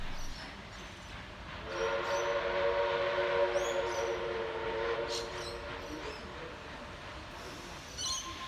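Steam locomotive 5917 slowing outside Hurstville Station, a moderately distant whistle-like tonal blast rising over steady rail rumble, then fading to quieter background noise.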